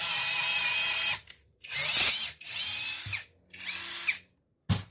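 A CHIGO cordless drill driver with torque control runs in several bursts, whirring loudly then stopping between trigger pulls, with no talking.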